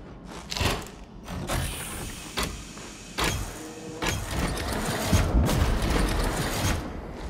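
Plasma gun reload animation in Warhammer 40k: Darktide, a series of mechanical clicks, clacks and whirring hums, with several sharp metallic snaps spaced apart and a louder buildup near the end.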